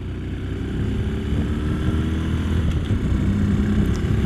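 Ferrari 458 engine passing on the road, heard from a Honda C125 scooter: a steady, loud low-pitched engine drone that holds throughout, mixed with road and wind rumble.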